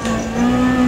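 Engine revving hard in Need for Speed ProStreet, driven by a Toyota during a drift event, a loud close steady whine with a strong buzzing tone that rises slightly in pitch over a single second.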